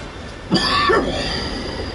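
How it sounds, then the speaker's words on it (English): A character in the video game Drengr coughs once, a short harsh burst followed by a rough throaty rasp, over a steady low background hum. "Quit coughing and fight."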